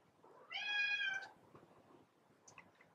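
A cat lets out one loud, drawn-out meow close by, with quiet room noise afterward and a faint chirp near the end.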